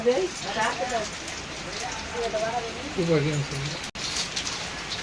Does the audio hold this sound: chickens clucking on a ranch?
no